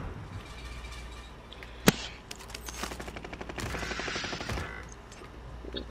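Gunfire in the Call of Duty Modern Warfare game: one sharp close shot, then rapid automatic bursts in quick rattling volleys that grow denser and louder toward the end.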